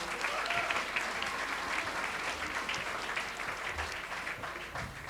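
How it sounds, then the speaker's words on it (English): An audience at an inter-school general knowledge quiz final applauds the teams, sustained dense clapping from a full room at even loudness throughout. "can we have a round of applause for all our teams"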